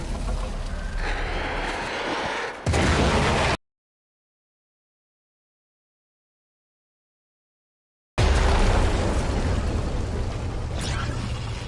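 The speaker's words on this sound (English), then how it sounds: "There should be useful detritus falling from the explosion." Heavy explosion in the sci-fi action game Warframe, a loud sustained roaring blast with a sharp burst, cut off by a stretch of silence before loud rumbling game noise resumes.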